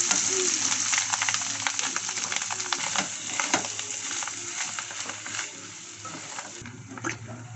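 Pork innards (laman loob) frying in a pan, a continuous bright sizzle with crackles and occasional scraping stirs, loud and close, gradually easing toward the end without any voices.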